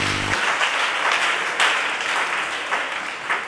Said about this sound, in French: Est-ce que tu peux acclamer le Seigneur pour sa parole?